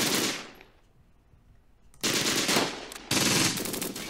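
Bursts of rapid automatic machine-gun fire in a WWII strategy game, loud and close, with a lull of quieter distant rattling between three heavy sustained volleys.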